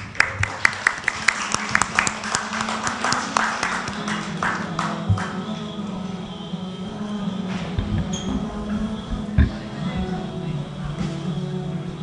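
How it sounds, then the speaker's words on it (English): A seminar audience at an international conference on Palestine applauds in a dense burst of clapping that is loudest at the start and gradually thins out, with a few scattered sharp claps continuing near the end. "Please give him a very big round of applause."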